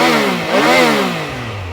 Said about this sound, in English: This is how it sounds when you rev it higher, closer to the red line.